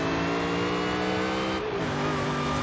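A 2005 Ford GT in Forza Horizon 5 drones steadily at high revs, and its engine pitch drops partway through as it downshifts, then holds on a lower tone.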